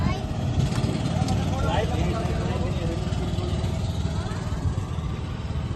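A 16-horsepower boat engine runs steadily nearby at a constant low throb that fills the whole stretch, while voices talk over it.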